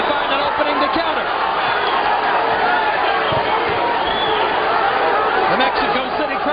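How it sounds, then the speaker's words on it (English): A Mexico City boxing crowd at a WBC featherweight title fight, Erik Morales vs. Guty Espadas, roaring steadily as the fans rise to their feet, dense continuous noise with commentary spoken over it. "The Mexico City crowd on its feet as Guty comes alive"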